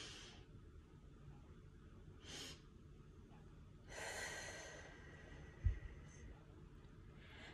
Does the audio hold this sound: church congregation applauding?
no